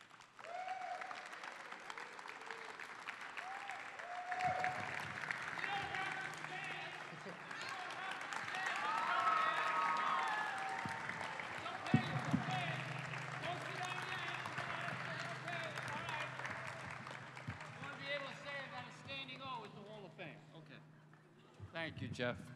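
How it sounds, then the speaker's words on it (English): An audience at a Basketball Hall of Fame event applauds NBA referee Dick Bavetta, with steady, sustained clapping from a crowd throughout, while voices talk over it. "Nice round of applause for you."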